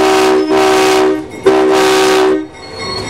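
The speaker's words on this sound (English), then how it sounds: "sorry about the horn being blown out here, but I was too close to it with my camera, so it hit the distortion limiter" The horn of the V&T Comstock Christmas train near Virginia City sounds in two long, loud blasts with a short gap between them, recorded up close and harshly distorted, followed by rumbling train noise.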